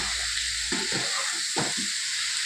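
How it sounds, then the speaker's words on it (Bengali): Potato, cauliflower and bean pieces are stir-fried in a pan under a loud, continuous hiss of frying. A couple of distinct stirring scrapes rise out of it. No one speaks. "এবারে সবজিগুলো আমি কিন্তু ভালো করে কষাবো, কষিয়ে তারপরে জল দেবো"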